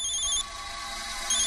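A telephone rings with a bright electronic trill in two bursts separated by a short pause, close and clear in a quiet room.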